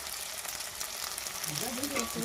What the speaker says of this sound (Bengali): এগুলো ভালো করে ভেজে নেব, যাতে আদা রসুনটা ভালো করে ভাজা ভাজা হয়ে যায়